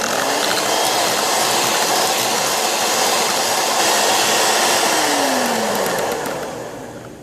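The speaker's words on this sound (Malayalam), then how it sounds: "ഇനി നമുക്ക് ഈ ഫ്രഷ് ക്രീം കൂടി ചെറുതായി ഒന്ന് ബീറ്റ് ചെയ്തെടുക്കാം." An electric hand beater whips fresh cream for a nut cream pudding, a loud continuous whirring drone with a slight pitch glide that tapers off at the end, with no talking over it.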